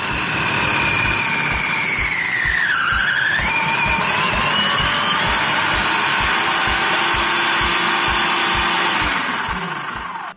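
A Braun EasyPrep food processor shreds mozzarella cheese on its speed 2 setting, running as a loud, steady motor whir with a rapid rhythmic thumping and a shifting whine, then stopping abruptly at the end.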